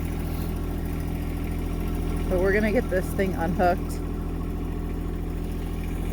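A tractor engine idles steadily while logs are moved over a creek for a log bridge, a low constant drone that runs throughout as someone talks briefly over it.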